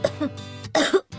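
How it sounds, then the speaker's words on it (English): A person coughs repeatedly, harsh and close, in several bursts with a throat-clearing quality, in a setting of polluted outdoor air. "Since evening, I'm coughing a lot."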